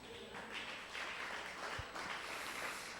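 A church congregation applauding, a faint, steady patter of many hands clapping that carries on throughout, distant and soft.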